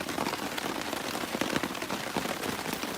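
Rain patters steadily on a tent and tarp at a campsite, a dense close hiss of drops with scattered sharper taps, continuous throughout with no voices.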